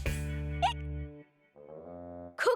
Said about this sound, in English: Cuquín's giving you the hiccups.